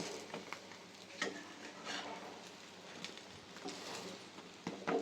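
Cheese omelette frying in a pan gives off a steady, soft sizzle with a few brief scraping or stirring clicks, heard alone without talk.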